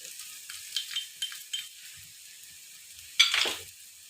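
Onion with ginger-garlic paste fries in a pan, giving a quiet steady sizzle broken by several soft stirring scrapes and a louder burst of hissing near the end, with no talk.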